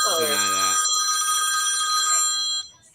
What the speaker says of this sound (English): You got a 1970s rotary phone over there?